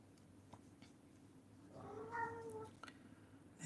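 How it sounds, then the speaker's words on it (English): A cat meows behind a closed door: one drawn-out, muffled meow that rises and falls over a low, steady background, with no talking. "I am going to open the door to my cat so that it stops meowing and disturbing us and annoying us."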